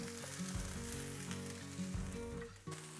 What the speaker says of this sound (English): Saute for a couple of minutes.